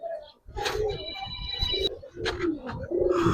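Giribaz and colored pigeons coo in a loft near Narayanganj, with soft repeated coos and chirps close by, under people talking.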